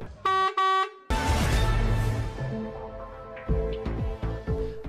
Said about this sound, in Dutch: de ruim 300 vrachtwagens die jaarlijks al toeterend door Apeldoorn rijden